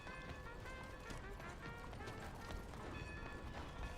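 Horse hooves clip-clop steadily in Red Dead Redemption 2, a faint, continuous galloping rhythm mixed with game ambience and mechanical noises, with no talk over it.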